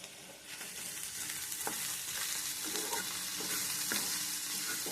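Okra and onion fry and get stirred in a pan, a steady close sizzle throughout with occasional scraping stirs, no talking.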